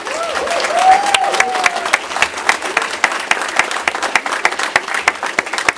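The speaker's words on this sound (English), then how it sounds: "Please give them a round of applause" Audience applause for a youth football team and its coaches at a Villa Rica gathering, individual claps sharp and distinct over a brief tonal swoop and murmur early on, then loosening into scattered, uneven hand claps.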